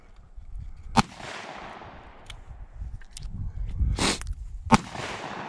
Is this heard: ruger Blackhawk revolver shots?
yes